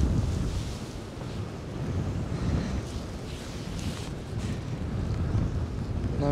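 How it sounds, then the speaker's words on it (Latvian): Strong wind gusting over a microphone beside the Gauja river at Kazu krācītes rapids, a heavy continuous roar that swells and eases in surges. "Normāls pūtiens."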